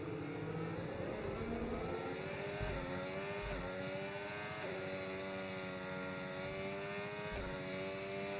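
In a video game, a Formula 1 car accelerates after a pit stop, its engine screaming up through the revs with several quick gear-change dips, continuous and loud with no talk.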